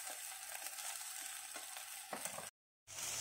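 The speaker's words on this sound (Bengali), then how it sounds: "এখন টমেটো দিয়ে ভালো করে কষে নেব।" Tomatoes fry in a pan with cumin, turmeric and salt, giving a faint, even sizzle with light stirring that cuts out briefly near the end and then resumes.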